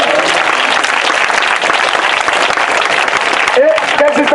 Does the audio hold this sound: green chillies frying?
no